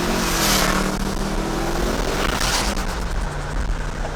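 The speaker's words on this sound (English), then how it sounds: "we did the perfect ride by Justin. Like, I timed it perfectly, and we drove past" Car driving past at speed on a highway, a loud engine roar with rushing wind and tyre noise that swells and fades within a few seconds, no talk.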